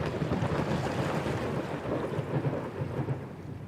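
A thunderstorm in the video game Kubifactorium, with a continuous rumbling wash of rain and wind and low thunder rolling steadily throughout, with no talking.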